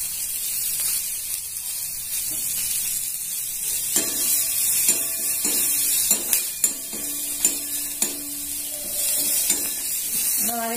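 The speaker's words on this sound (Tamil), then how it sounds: "கருவேப்பிலையும் போட்டு வதக்கிக்கணும்." Urad dal, curry leaves and asafoetida fry in oil in a pan for cabbage poriyal. A steady sizzling hiss runs under repeated sharp clinks of a spoon against the pan, close by and without talking.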